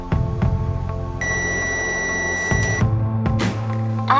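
A multimeter's buzzer, on a meter sold with a test probe kit, gives a loud, steady electronic beep lasting about a second and a half. Clicks and other short electronic tones come before and after it.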